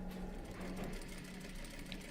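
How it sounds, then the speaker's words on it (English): A sewing machine runs steadily, stitching coat lining to the facing, a continuous close mechanical whir with no talk over it. "I remind you that we are stitching the lining to the facing."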